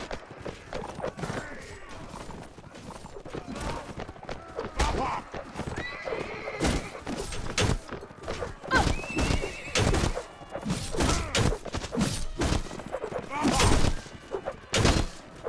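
Horses in the medieval combat game Mount and Blade: Warband whinny and neigh several times amid rapid clip-clop hooves, thuds and clashing battle noise, with someone talking over the action.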